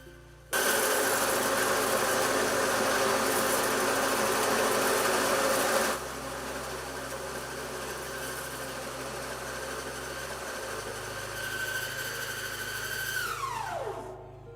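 A machine on a coffee farm in Costa Rica processes coffee that was roasted earlier, a steady mechanical whir and hum that shifts pitch partway through and then winds down near the end, with no talking.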